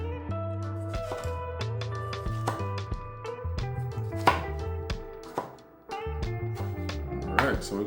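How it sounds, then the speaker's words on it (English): A knife chopping bell peppers and a tomato, with rapid, uneven close thuds and clicks on a cutting board in quick bursts, over a steady background tone. "You just chop it up as fast as possible"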